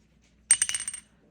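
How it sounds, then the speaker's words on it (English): A single die is rolled, clattering in a quick burst of several sharp taps that settle within half a second, close and alone. "And we're rolling 1 dice,"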